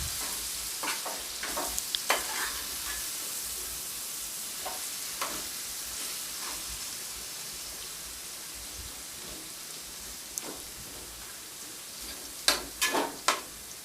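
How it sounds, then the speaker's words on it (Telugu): Marinated chicken fries in a pan with ginger over low heat, giving a soft, continuous sizzle. Scattered spatula scrapes and clicks come through, with a cluster of louder stirring knocks toward the end. No talk. "అల్లం ఫ్రై అయిన తర్వాత మ్యారినేట్ చేసి పెట్టుకున్న చికెన్ని ఇందులో వేసుకోవాలి"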